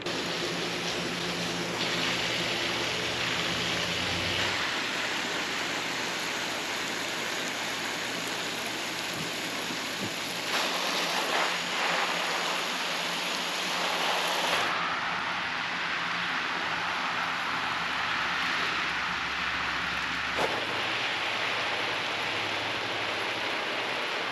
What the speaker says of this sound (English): I gotta get some more hand watering done before it gets too much hotter